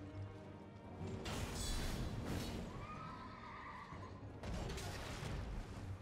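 A horse in the Elden Ring Reborn mod lets out loud neighs and whinnies over game combat noise and booming effects, fairly close.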